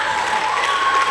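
A school audience at an event between Kings & Queens Academy and Treasure Trove Schools claps in a dense, even burst of applause, loud and steady for the brief moment with no speech.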